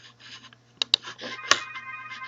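A short electronic phone ring, from phones on a Grandstream UCM6200 phone system, chirps a few times, bright and close, with brief pauses between bursts.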